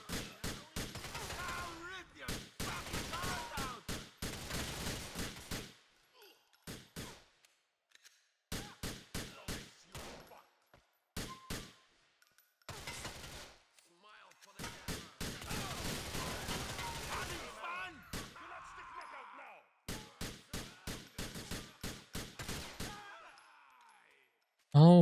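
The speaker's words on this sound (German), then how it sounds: "Wir versuchen es erstmal so gut es geht mit der Pistole." Pistol fire in GTA IV: repeated bursts of sharp gunshots in rapid clusters, some almost continuous like a fusillade, separated by short silences, loud and close.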